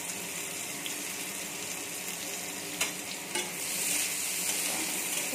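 Chopped onion sizzling in hot mustard oil in a wok, a steady dense hiss with a few sharp clinks of stirring and a brief louder surge toward the end, close and continuous with no talk.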